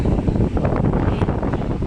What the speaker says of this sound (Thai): ลมพัดบื้อเลย